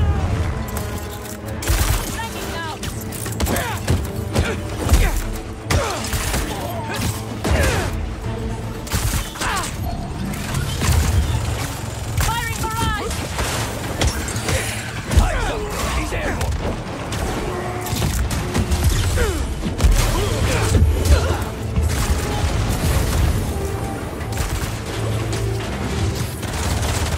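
Spider-Man 2 combat aboard a ship: dense, loud gunfire, booms and crashing impacts keep going without a break over a musical score, with occasional shouted voices.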